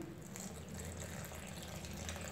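Water is poured into salted maize flour for makki ki roti, a steady close gushing trickle that runs continuously for about two seconds without any voices.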